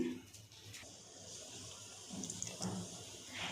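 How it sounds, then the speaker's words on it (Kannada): Water being poured into a cooking pot for vegetable biryani, a steady soft splashing stream at close range, fairly quiet with faint background noise. "ಡಬಲ್ ಅಷ್ಟು ನೀರು ಹಾಕ್ತಾಯಿದ್ದೀನಿ"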